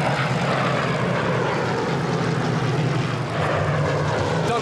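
Vintage Spitfire fighter planes roar overhead in a steady, loud, continuous propeller-engine drone that fills the whole stretch without a break.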